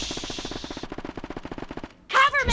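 Automatic gunfire in the battle royale game PUBG, a rapid, evenly spaced burst of about two dozen shots that stops abruptly, followed by a brief loud blast.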